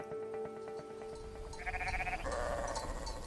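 Lacaune ewes bleating, a local sheep breed raised for milk, with several overlapping, tonal bleats in steady succession, close and clear.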